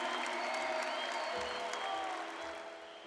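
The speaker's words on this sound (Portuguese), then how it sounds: "Pode aplaudir esse irmão com mais força, com mais força." An audience at a Catholic church service applauds loudly and steadily, a dense wash of clapping that fades slightly toward the end.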